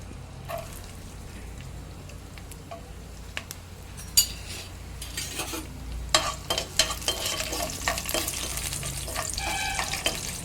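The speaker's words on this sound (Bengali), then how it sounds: "গরম তেলে রসুন কুচি দিয়ে রসুনগুলো লাল লাল করে ভেজে নিচ্ছি প্রথমে" Chopped garlic frying in hot oil in a wok, a steady crackling sizzle with scattered sharper pops and stirring clatter that grows busier toward the end.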